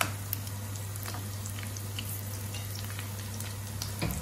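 Rice kebabs fry over medium heat in a pan, a steady soft sizzle and crackle with a low hum underneath, close and even, no talk.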